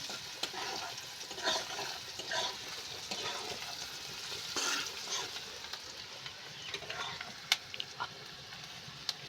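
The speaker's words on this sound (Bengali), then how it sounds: "আমার পেঁয়াজটা ভালোভাবে ভাজা হয়ে গেছে বা কষে গেছে" Onions frying in oil in a pan sizzle steadily while a utensil stirs and scrapes through them in repeated strokes, with occasional sharp clicks against the pan, close and moderately quiet.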